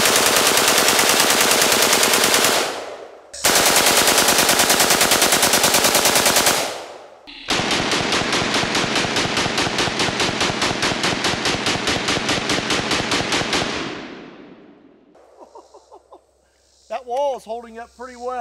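Bursts of AK-47 fully automatic fire aimed at a cinder block wall, three long loud rattling strings of rapid shots separated by brief pauses, followed by quieter sounds and a voice at the end.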